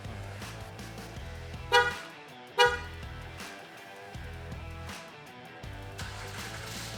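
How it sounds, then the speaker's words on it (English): A Honda Pilot remote-started from its factory key fob through a Start-X remote starter: two short horn chirps, then the engine running at a low, steady idle, heard close up. "Now we simply press the lock button 3 times from our factory key fob and we can remote start our vehicle."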